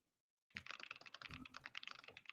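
Rapid, steady typing on a computer keyboard begins after a brief silence, with close, crisp keystrokes and no voices.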